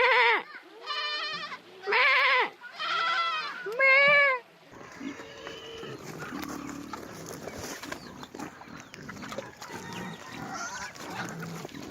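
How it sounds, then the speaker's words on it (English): Lambs bleat in four loud, close, wavering cries one after another, followed by a busier stretch of softer bleats, rustling and shuffling from the flock nearby. "I'm surrounded by lambs at the moment."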